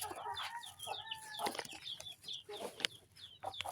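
Chickens are being fed and cluck and chatter close by, with overlapping short calls and squawks, one louder sharp cry near the end, and a quiet hum of background noise.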